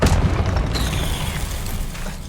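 A spell-blast explosion from a Harry Potter film: one loud booming burst at the start, then a sustained roaring rumble with a thin whistling streak through the middle.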